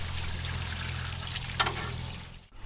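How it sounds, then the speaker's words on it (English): Water sprays in a steady broadband hiss while rinsing a filthy Weber Genesis II gas grill, with a brief splashing burst before the flow cuts off abruptly near the end. "Do a nice rinse."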